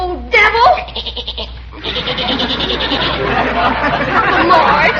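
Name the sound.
goat bleating in a radio drama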